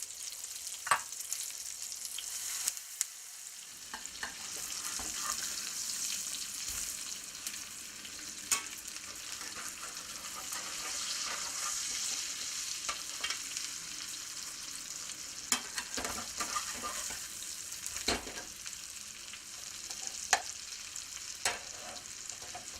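Slices of red tomato frying Italian style in a pan give a soft, even sizzle that runs throughout, dotted with small pops and light clicks, with one short quieter gap early on.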